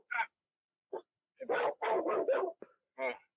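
A dog gives several short barks and whimpering yips in bursts, close and fairly loud, mixed with brief vocal sounds over about three seconds.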